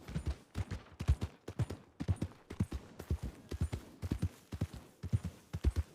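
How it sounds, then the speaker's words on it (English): Horse hooves gallop in the Red Dead Redemption 2 roleplay game, a steady, rapid rhythmic drumming of hoofbeats, close and clear throughout. "Let's go, horsey."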